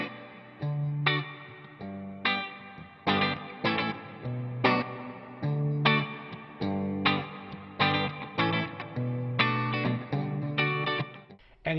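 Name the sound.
NuX MG30 guitar processor damp reverb ambient effect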